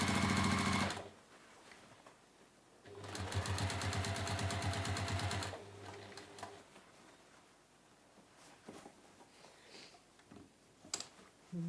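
Sewing machine running in short bursts while top stitching a seam on a three-pocket fabric tote bag, a fast steady needle chatter of a few seconds amid quieter handling sounds and pauses.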